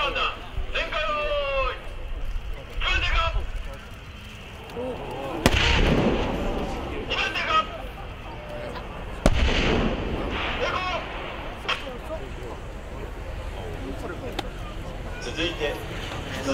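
Gunfire bursting red and white target balloons at the Fuji live-fire exercise, with sharp reports and echoing booms spread through the clip under continuous announcer talk over a loudspeaker.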